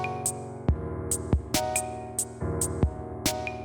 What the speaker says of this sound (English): Just a kick, a hi-hat,